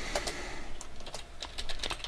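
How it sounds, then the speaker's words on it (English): Typing on a computer keyboard while entering a plan title in business planning software: a steady run of light, close plastic key clicks with irregular rhythm, heard alone without talk. "by clicking and typing, and of course I just made a typing error"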